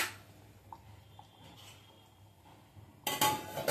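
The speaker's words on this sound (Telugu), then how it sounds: "మూత పెట్టుకుందాం అండి." A metal lid set onto a cooking pot of Andhra fish curry gives a sharp clatter near the end, after quieter faint clinks and kitchen noise.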